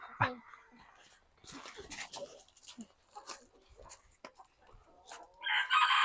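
Chickens cluck softly and a rooster crows clearly in a farmyard at a riverside stay in Ratchaburi, while people whisper nearby and other birds call faintly.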